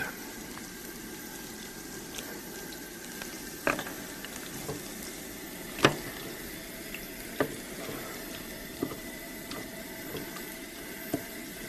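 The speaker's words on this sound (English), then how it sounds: "We stir the onions. Soften those right down." Onions softening in a pan of oil, sizzling steadily throughout while a spoon or utensil stirs them, adding a handful of sharp clinks and taps against the pan at irregular intervals, close and without talk.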